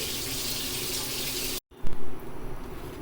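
Kitchen tap water runs steadily while hands are washed during home cake baking, a broad rushing flow lasting about a second and a half before cutting off abruptly, followed by a few light clatters.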